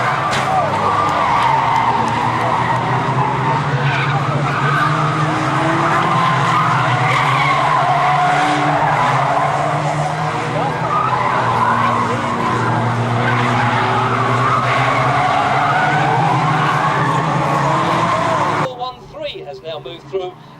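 Race cars at Bovingdon Raceway roar past on the track, engines loud and sustained with tires squealing through corners for about eighteen seconds, then fading abruptly as a commentator talks over the action.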